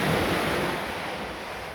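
Sea waves wash continuously onto the shore in a broad, loud rushing roar, close by, with some wind noise and no voices.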